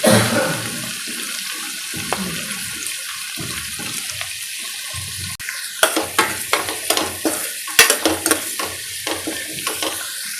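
Onions with a pinch of salt frying in a pan while being stirred, a steady sizzle broken by scraping stir strokes that grow busier and louder in the second half, with no voices.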